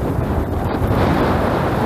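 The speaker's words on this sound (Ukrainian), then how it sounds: "Вітер просто ураган." Strong spring wind at a fishing pond buffets the microphone with a constant loud low roar and rumble, unbroken for the whole moment.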